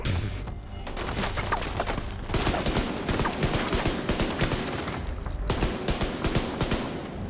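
Rapid bursts of automatic gunfire in The Division 2 on PC crackle near and loud in repeated volleys. Short gaps separate the volleys, and a flashbang is heard in the same firefight.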